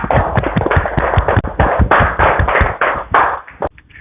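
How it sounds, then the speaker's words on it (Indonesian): A classroom of students applauds group 2, a dense run of quick, uneven hand claps that keeps going, then thins out and fades near the end. "Kita tepuk tangan dulu untuk kelompok 2, Nak."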